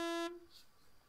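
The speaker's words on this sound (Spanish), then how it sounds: "Silencio, claxon." A car horn in a video game gives one short, sharp, bright honk that cuts off abruptly and leaves a faint quiet tail.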